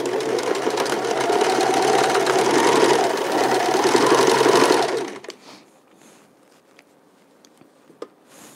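A sewing machine straight-stitches wool sweater pieces into mittens, running in a steady loud whirring rattle for about five seconds before stopping, leaving faint handling clicks.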